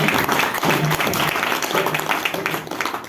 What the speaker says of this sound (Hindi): एक बार जोरदार ताली बजा के सभी ब्राह्मण देवों आचार्य जी के चरणों में प्रणाम करें।